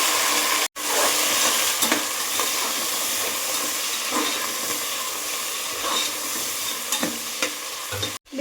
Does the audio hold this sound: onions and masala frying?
yes